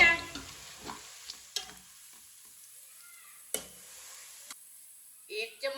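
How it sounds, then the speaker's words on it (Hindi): Onions for biryani fry lightly in a pan, with faint sizzling and a few sharp scrapes and clinks from stirring, separated by quiet stretches. "प्याज को हल्का सा ब्राउन कर लेंगे।"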